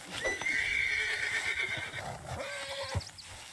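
A wild horse in the Red Dead Redemption 2 video game gives a long, loud whinny, followed by snorts and the clip-clop of hooves, with game ambience underneath and no speech.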